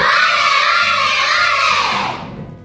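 Classroom of young children shouting a loud, sustained group cheer together, a dense chorus of voices that fades out at the end.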